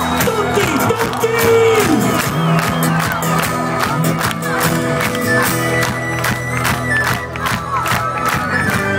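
A concert crowd at an outdoor event in Spezzano Albanese claps along to Bella ciao, steady rhythmic handclaps beneath loud music, with cheering and whoops mixed in.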